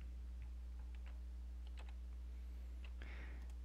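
Computer keyboard typing: a few faint, scattered key clicks over a steady low electrical hum, with no speech.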